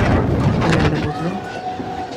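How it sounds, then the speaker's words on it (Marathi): A fast passenger train rolls along its rails in the morning, a loud steady rumble with faint rhythmic clatter from the carriage, and a little voice sound mixed in. "ट्रेन किती फास्ट चालते बघा."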